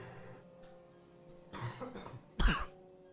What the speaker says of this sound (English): I apologize about all the coughing